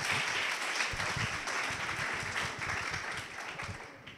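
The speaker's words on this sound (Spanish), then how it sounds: "un fuerte aplauso para él" An audience at a PechaKucha night in Salamanca applauds a speaker, producing steady, moderately distant clapping from a roomful of people that tapers slightly toward the end.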